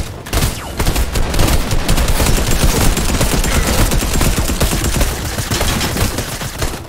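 Rapid, loud, continuous gunfire in the Fortnite video game, a dense close rattle of shots that keeps up without pause throughout.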